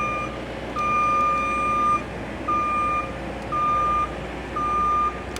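A 2018 JLG 800AJ articulating telescopic boom lift driving at high speed on low throttle, a steady engine rumble under a loud travel-alarm beep repeating roughly once a second, nearby with no voices.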